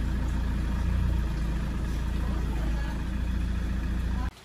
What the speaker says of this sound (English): the engine has been warmed up for about 15 minutes